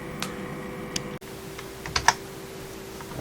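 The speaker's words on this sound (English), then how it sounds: "So I'm going to type some stuff in it." A 25-year-old IBM Aptiva computer keyboard is typed on in sparse, isolated clicks with uneven pauses, fairly faint over a steady background hum.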